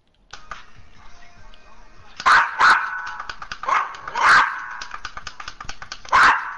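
Riley the dog barks in sharp, close, repeated bursts, with several loud barks spaced a second or two apart over a steady background hum.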